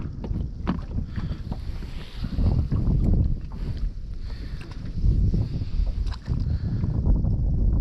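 Steady wind buffeting the microphone with a low rumble, along with water lapping against a small boat nearby.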